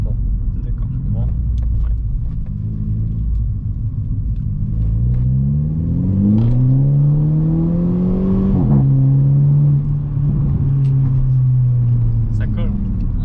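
A Mercedes A250 AMG in sport mode accelerates, its engine note rising steadily through a gear, dipping briefly at a shift, then climbing again; close, continuous rumble with a faint voice underneath.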